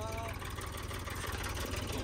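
A John Deere tractor engine running just after starting, a steady close low rumble with constant loud noise throughout and no clear talk.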